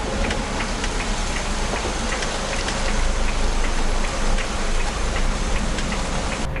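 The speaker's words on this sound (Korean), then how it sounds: "비가 지금 엄청나게 쏟아지고 있거든요" Heavy rain pours down in a loud, dense, unbroken roar that holds steady from start to end.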